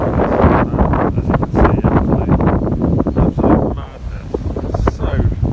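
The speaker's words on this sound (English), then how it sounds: "so windy, it's ridiculous trying to control the flow" Strong wind buffets the microphone in loud, rough gusts beside a small river, with a voice talking underneath and water sounds faintly present.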